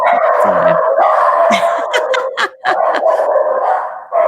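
A dog outside a door barks and yips in quick, irregular bursts, fairly loud, over a constant background of voices talking.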